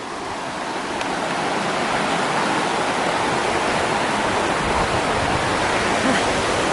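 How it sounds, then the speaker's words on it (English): Miners Creek on the Pacific Crest Trail rushes in a dense, constant broadband roar of flowing water, close and steady throughout with no voices. "This is Miners Creek."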